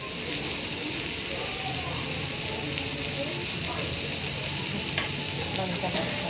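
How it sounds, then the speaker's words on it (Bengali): Onions frying toward brown in a pan for a Bengali egg bhuna, a steady close sizzle with stirring scrapes running throughout at an even level. "আমরা এখন পেঁয়াজগুলোকে বাদামি কালার করে ভাজে নেব।"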